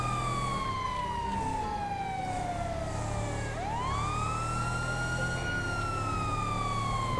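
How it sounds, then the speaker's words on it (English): A police siren in GTA 5 wails, sweeping down in pitch, then rising again in a long steady tone, loud and close over a low engine rumble, with no talking. "how do you not hear the siren or see the lights?"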